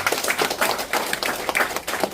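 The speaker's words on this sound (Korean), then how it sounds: "네, 다시 한번 박수로." Audience applause at a Korean lecture on barefoot walking, a dense steady patter of many hands clapping close by, sustained without pause and with no voices over it.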